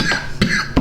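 Short bursts of coughing from a man on a casual talk show, three quick coughs close to the mic, spaced across under a second with no speech.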